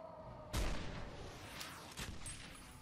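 Artillery fire in Fallout New Vegas booms out in one sharp, heavy blast followed by a softer second thud and a lingering rumble, faint and distant-sounding against a quiet background.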